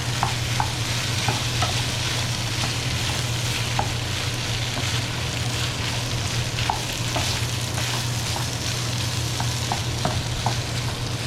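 Marinated pork for tacos al pastor sizzles steadily in a hot pan, a constant close frying hiss broken by light scraping clicks as the meat is stirred and turned.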